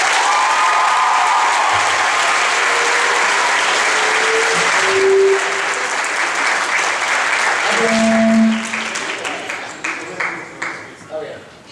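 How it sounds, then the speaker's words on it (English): Sustained applause and cheering from a crowd honoring teachers at a school celebration, loud and dense for several seconds before thinning into scattered claps, with voices calling out within it. "I just want to have a round of applause for all of our fabulous teachers this year"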